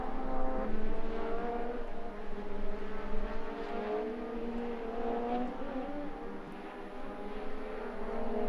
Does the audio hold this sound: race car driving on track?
yes